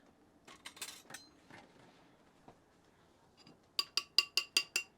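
A metal whisk beating coleslaw dressing in a bowl, with sparse clinks at first and then a quick run of six sharp, evenly spaced taps against the bowl.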